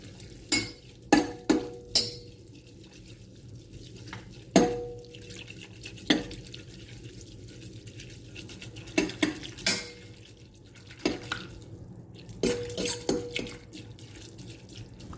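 A utensil mixes food with hot sauce in a dish, producing sharp clinks and scraping knocks in irregular bursts, close and fairly loud against a quiet room.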